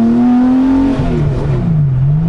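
Porsche 911-based 913 BB by Machine Revival, its engine revving hard and very loud up close, a raw, rising drone that drops briefly in pitch and then climbs again.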